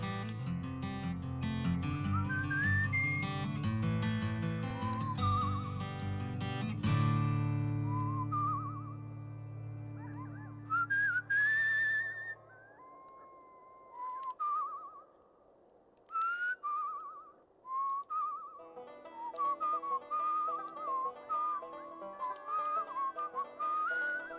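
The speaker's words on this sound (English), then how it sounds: "Whistle." Melodic whistling from the video game Where the Water Tastes Like Wine, first over a plucked instrumental backing, then alone as clear, wavering whistled phrases with short pauses between them.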